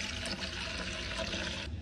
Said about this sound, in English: Add some water in the bowl